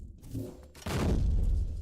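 A sudden loud, deep explosion in the game Combat Arms bursts in partway through and rumbles on heavily to the end, after a quieter stretch of muffled game noise.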